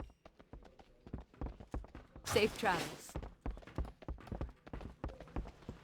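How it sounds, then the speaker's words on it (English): Rhythmic clip-clop of horse hooves walking steadily in World of Warcraft, with a brief spoken line partway through. "I hear a horse walking around."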